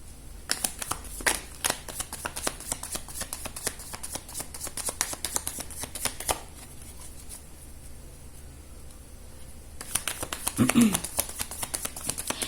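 Oracle cards shuffled during a card reading, giving a run of quick crisp riffling flicks and snaps up close, then a quieter stretch, with a voice heard speaking near the end.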